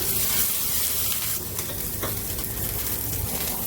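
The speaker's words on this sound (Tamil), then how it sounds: "இப்போ எண்ணெய் விட்டு ஒரு சின்ன கடாயில் நான் இந்த இதை வறுத்துக்கிறேன்." Onion and tomato fry in oil in a small kadai, a steady, close, dense sizzle with a faint bit of stirring mixed in.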